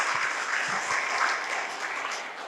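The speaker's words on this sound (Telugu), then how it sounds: "సో మీ యొక్క చప్పట్లతో వీరందరికీ కూడా అభినందనలు తెలియజేస్తూ ఉన్నాను" Audience applause at a church silver jubilee celebration in Hyderabad, a steady, dense wash of many hands clapping that holds at even loudness throughout without voices.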